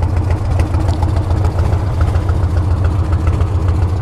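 A 1982 Harley-Davidson FXR Shovelhead motorcycle with a five-speed gearbox idles nearby, its low, steady, loping engine rumble continuing without a break.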